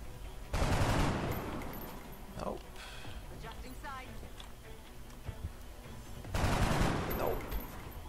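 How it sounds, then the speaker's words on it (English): Soldiers firing on an alien in the XCOM video game, with two loud bursts of shooting at the start and near the end, and quieter game effects between them. "we'll just try and shoot him."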